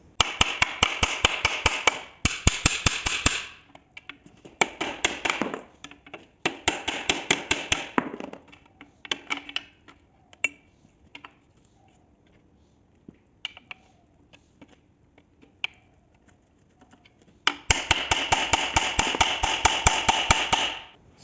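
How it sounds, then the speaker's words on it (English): Metal hammer strikes on a BMW M42 engine's stuck water pump, fired off in rapid bursts of closely spaced blows with short pauses between, then scattered lighter taps before another loud, sustained volley near the end. "Now we're gonna use this hammer."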